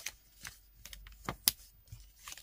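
Crafting paper for a Christmas-themed explosion box is folded and creased by hand in a few soft, quiet rustles and crisp presses, with one sharper snap near the middle.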